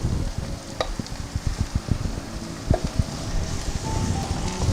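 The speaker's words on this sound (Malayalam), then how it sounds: "ഇനി നമുക്ക് അരപ്പ് കൂടെ ചേർത്ത് നന്നായിട്ട് മൂപ്പിച്ചെടുക്കണം." Masala paste roasting in hot oil for Madras beef curry, with a steady sizzle and repeated scraping, clacking stirs of a spoon against the pan, close and moderately loud.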